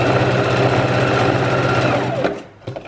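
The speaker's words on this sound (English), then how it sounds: "So I'm literally just sewing them back and forth." A sewing machine runs loud and continuous as it stitches scrunchie fabric tubes back and forth in one long chain, then stops abruptly, followed by a few faint clicks.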